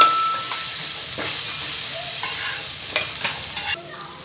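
A coarsely ground paste sautés in a hot pan with a steady sizzle, interrupted by a few scraping clicks of stirring toward the end, close and clear with no talking.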